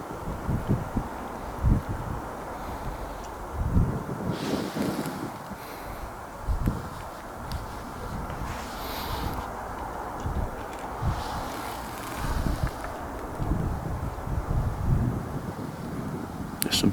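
Wind gusts outdoors on a cold night during a ghost hunt, buffeting the microphone in uneven low rumbling surges with a faint rustle, rising and falling over the whole stretch.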